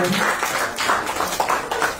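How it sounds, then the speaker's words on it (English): A crowd at a STEM innovation lab commissioning applauds in a dense, even wash of clapping, with some voices underneath. "Can we please just give a round of applause for these laudable initiatives"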